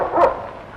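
A single short dog bark or yip in an old 1956 Hindi film scene, brief and mid-distance.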